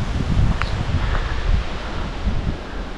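Gusty wind buffets the open air by the Prut River in uneven surges, rustling and rumbling close by with no voices.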